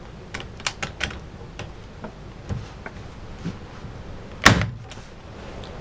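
A Tacwise 500EL electric nail gun fires a nail with one sharp, loud bang, preceded by scattered light clicks and handling taps in a quiet room.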